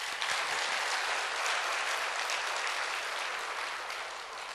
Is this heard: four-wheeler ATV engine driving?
no